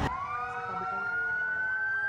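A fire truck siren wails close and loud in Metro Manila as firefighters respond to a blaze, its tone sweeping steadily upward with a low rumble beneath.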